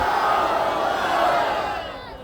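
A large crowd at an AIMIM election rally in Bhiwandi, Maharashtra, shouts the Takbeer slogan together to welcome a guest, a loud, sustained roar of many voices that holds steady and then tails off.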